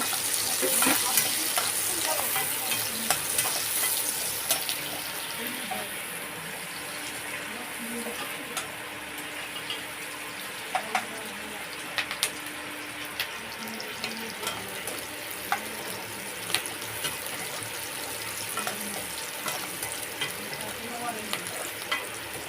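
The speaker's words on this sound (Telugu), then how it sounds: "ఈ ఉల్లిపాయలు వేసిన తర్వాత దోర కలర్ వచ్చేంత వరకు బాగా వేగనిద్దామండి" Onions fry in a pan on the stove, with a continuous, close sizzle and repeated stirring scrapes and clicks throughout, plus a brief wash of running water early on.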